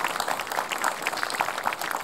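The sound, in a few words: audience applause for a child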